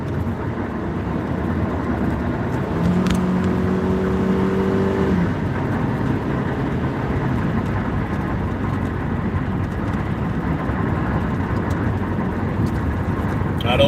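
Car on a freeway speeding up to pass a slow driver, a loud, steady engine and road roar heard from inside the cabin, with no clear rise in pitch.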